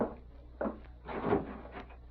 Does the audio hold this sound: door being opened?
yes